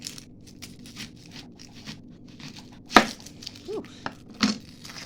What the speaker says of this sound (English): so let's just cut a little bit of this. Okay, and I'm using red onion.